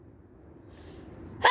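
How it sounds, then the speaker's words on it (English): A single abrupt sneeze bursts out at the very end, loud and close after a quiet stretch of low background rumble. "That was a big sneeze."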